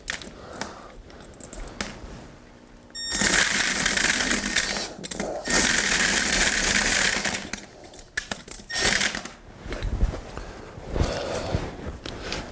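A power drill bores into a corn cob, its motor whining and grinding in a few sustained bursts with short pauses between them. The sound is close and fairly loud.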